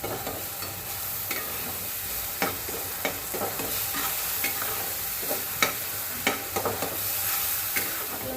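A paste of ginger, garlic, coconut, coriander and green chilli fries as a masala for sukka chicken, with a soft steady sizzle and occasional spoon scrapes and taps against the pan, close and quiet, no talk.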